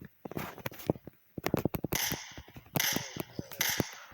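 Rapid sharp gunshots from a game, fired in quick bursts with crackling impacts and clattering effects between shots, loud and close.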